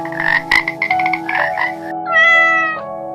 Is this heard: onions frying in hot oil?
no